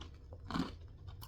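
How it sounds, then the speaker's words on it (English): Crunching bite into spicy Blue Heat Takis rolled tortilla chips, a single close, crisp crunch peaking midway through an otherwise quiet moment. "I'm just gonna go ahead and try these blue heat Takis"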